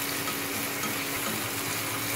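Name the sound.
frying spices and tomato sauce for chicken pasta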